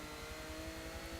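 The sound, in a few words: high-revving engine of 1966 Porsche 906 Carrera 6, Forza Motorsport 7 video game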